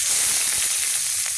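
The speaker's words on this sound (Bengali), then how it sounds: "ওই কাঁকরোল ভাজা, কাঁকড়ি ভাজা।" Slices of spiny gourd frying in hot oil give a steady, close sizzle with dense crackle throughout and no talk.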